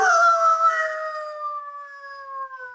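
A three-quarter Irish setter howls in one long, loud, sustained wail that starts strong and slowly trails off, heard close and on its own.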